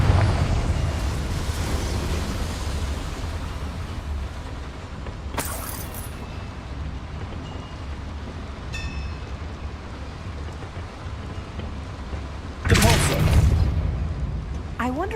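Confringo fire spell explosion in the Hogwarts Legacy video game, a sharp burst of blasts around the middle and a louder bright eruption near the end over a constant rumbling background.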